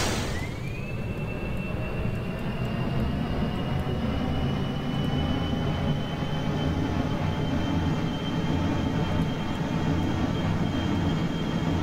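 Jet engines spool up in a spaceflight game, a rising whine climbing over a dense, steady roar that holds loud and unbroken throughout with no talking.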